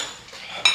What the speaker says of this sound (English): The cutlery is really small.